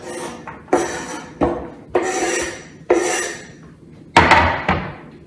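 A knife cuts onions coarsely into cubes on a board for a pumpkin soup. About half a dozen separate rasping strokes come at an uneven pace, each sharp at the start and then fading, close and clear with no talking.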